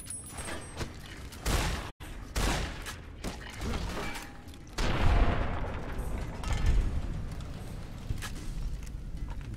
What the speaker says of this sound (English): Maybe for close quarters, I should bring out that shotgun.